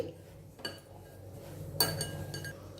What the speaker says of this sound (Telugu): రుచికి సరిపడా సాల్ట్ వేసుకోవాలి ఇప్పుడు ఇదంతా ఒకసారి కలిపేసుకోవాలి